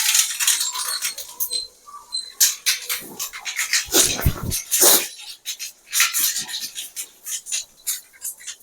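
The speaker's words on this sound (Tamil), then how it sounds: "கடுகு நல்லா பொரிஞ்சு வரணும்" Mustard seeds spluttering in hot oil for carrot poriyal, a loud burst of irregular crackling pops and sizzling bursts that flare and fade in quick succession.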